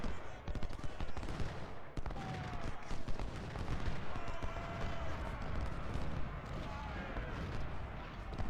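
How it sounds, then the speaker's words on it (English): Dense battle gunfire from an Ultimate General: Civil War game fight at Cold Harbor: continuous volleys of musket fire and booming artillery, loud and unbroken, with a voice speaking over parts of it. "Gettysburg is firing into Lewis from behind"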